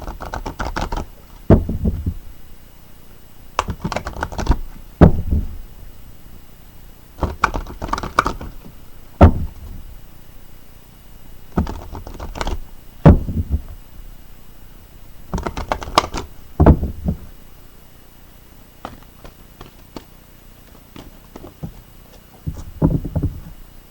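Tarot cards being shuffled and pulled, close and clear, in repeated short riffling bursts with crisp card snaps, separated by quiet pauses.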